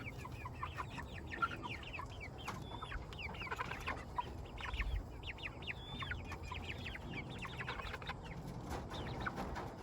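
A flock of eight-week-old dark Cornish meat chickens clucks and chatters continuously, many overlapping short calls at moderate distance over a low background hum.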